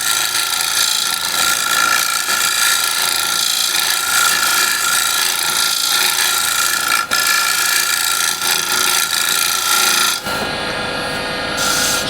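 A standard scraper held at about 45 degrees shear-scrapes the inside of a wooden bowl spinning on a lathe, making a loud, continuous rasping hiss that runs unbroken with one brief dip, then cuts to a quieter whir.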